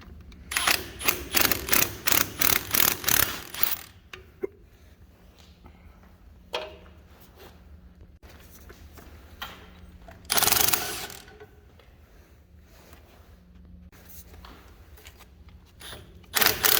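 A hand ratchet works loose the intake manifold bolts on a Caterpillar RD-4 engine, with quick bursts of rapid clicking up close, followed by quieter pauses, a single clack and one more short ratcheting burst.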